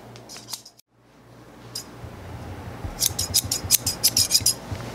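Rapid metallic snipping of scissors cutting hair in a barbershop video game, a few isolated snips early, then a quick rhythmic burst of cuts over a low steady hum.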